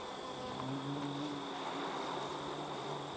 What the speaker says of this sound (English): So that is a frame full of bees right here.